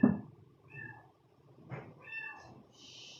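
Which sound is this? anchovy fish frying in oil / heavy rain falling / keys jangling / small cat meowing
small cat meowing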